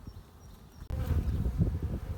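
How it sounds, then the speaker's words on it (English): Dense, steady buzzing of many honeybees close by on a hive frame, swelling louder after a brief quieter start and continuing without pause. "We can see these bees are working a lot of nectar on this frame."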